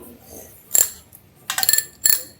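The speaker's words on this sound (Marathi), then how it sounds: "बेल वाजव बेल वाजव" A bicycle bell rings close by during a cleaning session, with three bright bursts of ringing, the middle one a rapid run of trills, separated by near silence.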